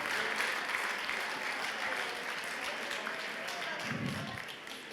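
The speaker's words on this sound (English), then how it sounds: "Applause and more applause and more applause." Warm applause from guests at a bicentennial banquet and dance fills the room continuously, fading a little near the end as a low voice briefly cuts in.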